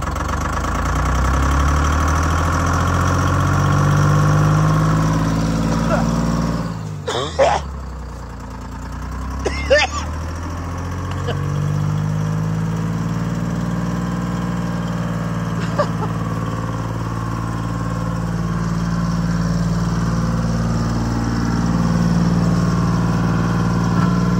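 A Detroit Diesel inline 671 two-stroke diesel engine runs after a cold start, a loud, steady low rumble with slight swells in pitch and a couple of sharp knocks partway through.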